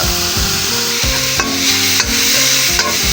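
Pork is stir-fried in a pan for a Thai bamboo-shoot dish, with dense sizzling and repeated spatula scrapes and stirs in a steady rhythm, loud and close, with no voices.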